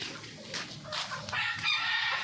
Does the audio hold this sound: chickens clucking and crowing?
yes